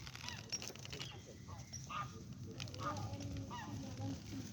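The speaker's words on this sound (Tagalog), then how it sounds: "Yan, may mga pato." Ducks honk and call at a park pond beside a crocodile enclosure, several sharp calls scattered over a steady outdoor murmur of wind and distant crowd noise.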